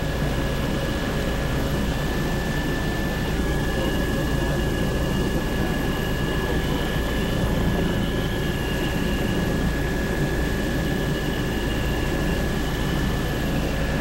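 Steady, loud engine drone of a light aircraft cruising at 400 feet on an aerial survey over a harbor, heard from inside the cabin, unbroken for the whole stretch with no talk.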